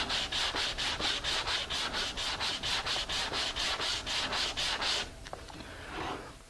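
Steady back-and-forth rubbing of sandpaper on a custom wooden sanding block shaped for a molding, about fifteen even strokes, close and fairly loud, then stopping with a few faint handling sounds.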